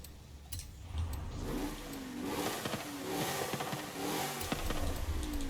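In Forza Horizon 5, a classic Shelby GT500 fitted with a sports exhaust revs through several rising pulls, a rough, up-close engine note over steady background rumble with no one speaking.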